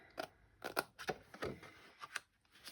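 Scissors snip through card for a candle gift box, about eight short crisp cuts in an uneven rhythm, close and fairly quiet with no talking.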